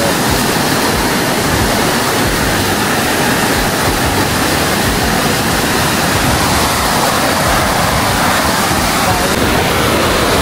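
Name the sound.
rushing river water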